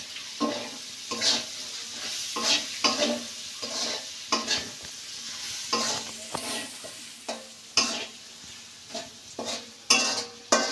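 Noodle ingredients fry and get stirred in a pan: a continuous sizzle punctuated by rhythmic scraping strokes of a spatula roughly every second, close and alone without speech.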